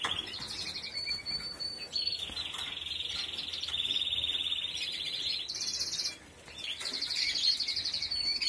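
A caged green bird with a yellow tail sings nearby in high, bright trills and sustained chirping phrases, broken by a brief pause before the song starts up again.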